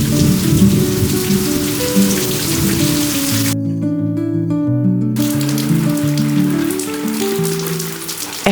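Steady rain falls outside, a dense continuous patter of drops heard alone without voices, while soft piano-like musical notes play throughout the background.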